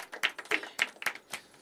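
Audience at a poetry open mic clapping, a thin, uneven patter of a small number of hands with distinct individual claps, close and fairly quiet.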